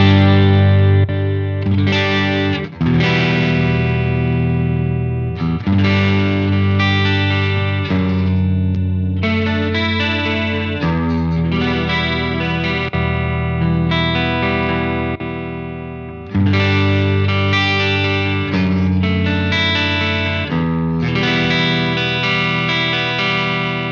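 Marshall JVM205H 100-watt tube guitar amp with a distorted tone playing loud, full chords and sustained notes, with several brief pauses between phrases and long ringing decays.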